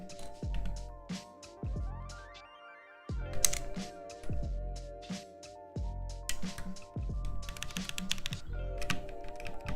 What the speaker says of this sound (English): They got that KBD67 light platelet sound right there.